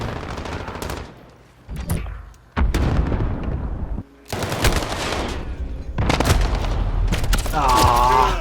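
Rapid bursts of game gunfire crackle in loud clusters with brief pauses between volleys, sounding close and sharp.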